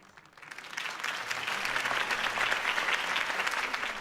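A crowd in a video game (Batman: The Telltale Series) breaks into sustained applause, clapping swelling over the first second and then holding steady and loud until the end.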